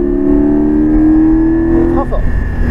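A Porsche Cayman GT4 accelerates hard on a race track, heard loud and close from inside the car as a steady rising engine drone, with a brief dip near the end as it shifts.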